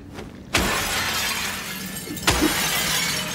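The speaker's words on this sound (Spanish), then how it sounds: "Puedo romper cristales en busca de nuevos caminos y equipamiento." Glass shatters twice in the Silent Hill 2 Remake video game, a loud sharp crash near the start and another a couple of seconds later, each trailing into tinkling debris.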